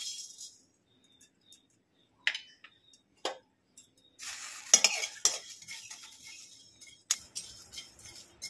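Whole cumin, coriander seeds and dried chillies dry-roasting in a pan, heard as sparse scrapes and clinks of a spoon at first, then a busier stretch of stirring and faint crackle, close and fairly quiet.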